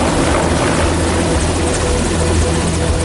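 A helicopter flies over the Russian Arctic islands. Its loud, close rotor and engine roar is dense and unbroken throughout.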